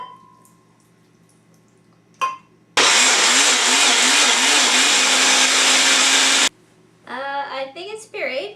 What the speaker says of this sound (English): they go into the blender with the buttermilk.